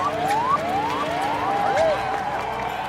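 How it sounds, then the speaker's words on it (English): A starting siren for a pony swim in Puerto Rico sounds outdoors along a muddy shore as a series of rising electronic whoops repeated in quick succession. A crowd murmurs underneath. "At last, the starting siren sounds."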